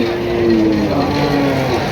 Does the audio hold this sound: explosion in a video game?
no